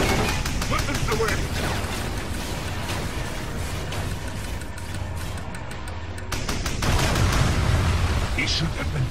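Rapid, dense weapons fire in the Transformers: Revenge of the Fallen video game, a sustained barrage of quick shots with a brief lull before it resumes louder, under constant game noise and a voice speaking.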